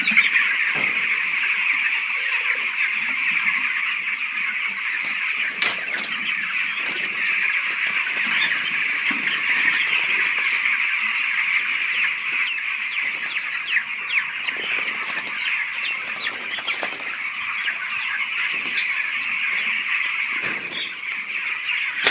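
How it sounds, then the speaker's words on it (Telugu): A dense, continuous chorus of 17-day-old chicks cheeping and clucking fills a poultry farm, steady and fairly loud throughout, with occasional sharper calls standing out and no talking. "17వ రోజు కోడి పిల్లలు అయితే ఇలా ఉన్నాయి."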